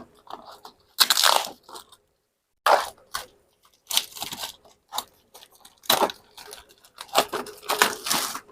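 Cardboard packaging for a DBS 8891 rear shock absorber for a Yamaha Mio being opened, with bursts of crinkling, tearing and crunching separated by short pauses, close and fairly loud.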